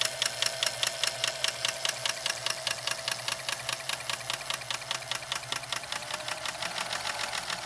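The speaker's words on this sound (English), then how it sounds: "But the motor on this machine, really good power." The motor of a sewing machine runs after an adjustment and cleaning, its needle mechanism chattering in a fast, even rhythmic clatter over a steady mechanical hum, close and continuous.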